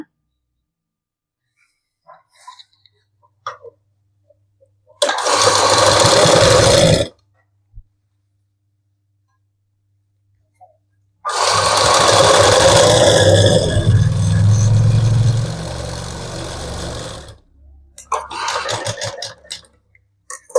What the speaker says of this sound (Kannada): ಈಗ ಇಲ್ಲಿ ಒಂದು ಸ್ಟಿಚ್ ಹಾಕ್ಕೊತೀನಿ ಈ ಓವರ್ಲಾಕ್ ಆಗಿರೋ ಪಕ್ಕ.